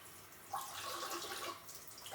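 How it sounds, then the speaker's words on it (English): Knife rinsed under a running kitchen tap while preparing a taco salad, a steady hiss of flowing water splashing against the blade, faint and continuous with a slight rise midway. "Rinse off my knife."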